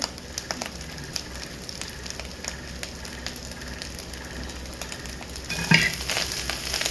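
Fried rice with coarsely ground pepper powder being stirred in a pan, a steady close sizzle with repeated light scraping and clatter of a spatula, louder toward the end.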